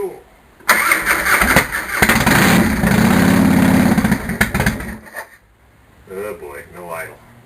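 A Harley-Davidson Fatboy motorcycle cranks on a cold start, then catches and roars loudly for several seconds before stumbling and dying out with no idle; a person talks afterward.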